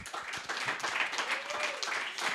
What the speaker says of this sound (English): All right, a round of applause.